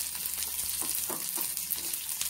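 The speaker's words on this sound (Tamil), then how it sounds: "வெங்காயம் ஓரளவுக்கு வதங்கிடுச்சு." Small onions sautéing in a pan for garlic chutney give a steady, soft sizzle with faint scraping touches, continuous and fairly quiet with no talking.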